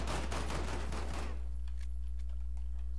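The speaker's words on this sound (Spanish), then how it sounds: "¿Escuchan disparos abajo?" Rapid bursts of video-game gunfire crackle densely for just over a second, then cut off, leaving a quiet background hum with a few faint distant pops.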